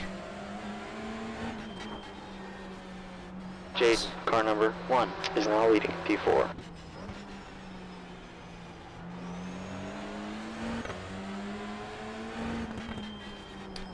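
Touring race cars in iRacing at Virginia International Raceway: a steady engine drone runs throughout, with a sharper burst of revving and gear changes midway, while a voice talks over the racing.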